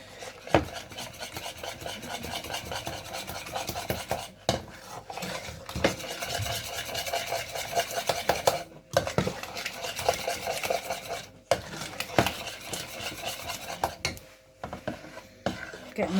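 A cheese sauce made with extra mature vintage cheddar is stirred in a saucepan, the spoon rasping and scraping steadily against the pan bottom in continuous close strokes with a few brief pauses.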